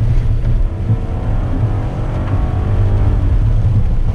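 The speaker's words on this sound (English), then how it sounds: "It doesn't shout like other V8 engines. You can still hear it." The V8 twin-turbo engine of a 2020 Bentley Bentayga drones steadily, a deep, muffled rumble that holds even and continuous throughout.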